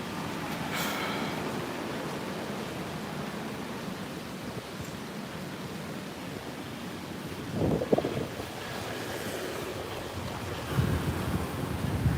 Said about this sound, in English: I suspect you can hear the wind